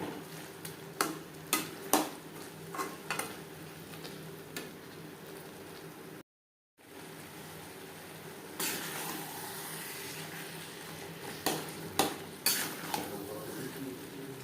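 Chana masala with mutton fat being stirred in a pan after adding garam masala powder: a spoon clinks and scrapes against the pan in irregular bursts over a low sizzle, close up, with a brief dropout midway and no speech.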